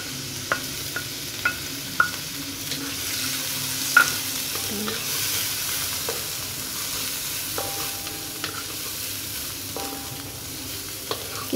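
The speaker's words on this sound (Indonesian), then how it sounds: "Kemudian saya masukkan udang kering." Cleaned dried shrimp fry with garlic and shallots in a pan, a steady close sizzle broken by regular light clicks and taps of a stirring spatula, without any talk.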